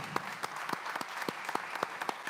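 Applause from an audience at a live award ceremony for a classic Corvette and Cadillac CTS-V giveaway, distinct individual claps over a soft crowd wash, fairly quiet and steady.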